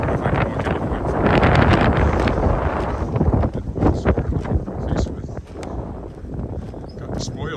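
Wind gusts buffet the microphone on a cold, snowy pre-dawn walk along a creek in Regina, with rumbling bursts and crunchy footstep-like thumps throughout.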